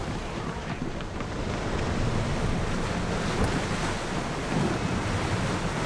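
Open sea waves wash around a sailing ship in Assassin's Creed Odyssey, a steady soft surf and wind rush with low rolling swells, faint and unbroken.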